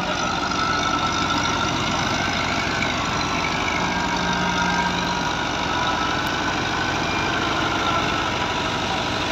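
A New Holland 640 tractor engine runs steadily in a rain-soaked wheat field during harvest, a continuous loud low rumble with no clear change in pace and no voices over it.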